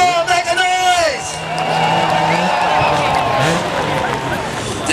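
A crowd at a balloon show in Kaprun cheers and whoops in a loud, continuous roar of voices that swells and holds, with scattered shouts rising above the din.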